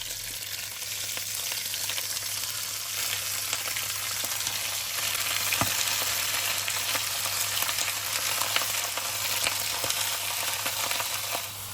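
Rabbit meat sizzles steadily in hot sunflower oil, a continuous crackling hiss with small pops, close by and fairly loud throughout.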